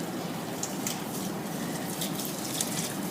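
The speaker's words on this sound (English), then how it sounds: "the best thing to do is to pre-water, nice light watering, cover the whole surface" Water is poured lightly over dry soil in an indoor plant pot, making a steady soft trickle and splash with occasional brighter spatters, continuous and close.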